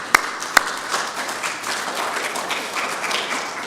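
Mourners at a funeral applaud a niece who has just spoken, starting with two sharp, isolated claps before a steady, moderately loud patter of hands from a modest gathering fills the rest of the moment.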